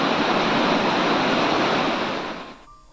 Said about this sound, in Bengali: জলের কি আওয়াজ!